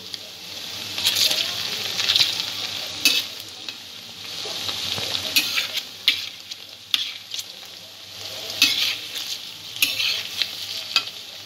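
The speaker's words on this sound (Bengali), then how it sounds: "পনিরটা এইভাবে হালকা করে আমি ভেজে নিয়েছি।" Paneer cubes fry lightly in a pan for a vegetable korma, giving a steady soft sizzle with scattered stirring scrapes and pops throughout, moderately close.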